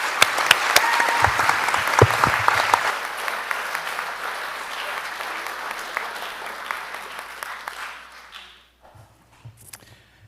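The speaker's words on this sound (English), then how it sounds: "let's give them a round of applause as well" A round of clapping from the audience at a school board meeting, moderately distant and steady for about eight seconds before tapering off into near silence with a few stray claps.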